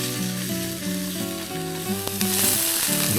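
A stir-fry sizzles loudly in a pan at a campsite, with steady frying hiss, stirring clatter and a brief sharp knock near the middle.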